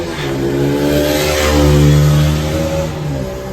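A car speeds past on a highway late at night, its engine rising and then falling as it roars by close and loud, with no talking.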